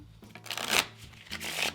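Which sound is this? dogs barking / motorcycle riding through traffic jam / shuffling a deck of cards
shuffling a deck of cards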